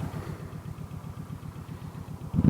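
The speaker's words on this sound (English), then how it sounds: "Oh, my lifter tap is back." A motorcycle engine idles after a car wash, with a steady rhythmic ticking from lifter tap pulsing over a low, fairly quiet idle and a brief louder bump at the end.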